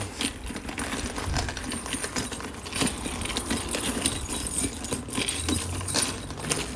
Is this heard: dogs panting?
no